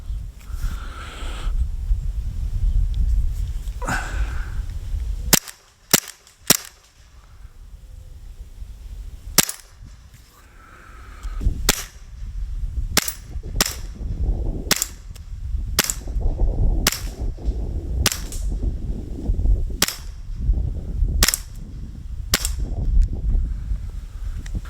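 An officially licensed Glock 17 BB gun fires repeatedly, sharp snappy cracks spaced irregularly, some in quick pairs, over a faint background rustle.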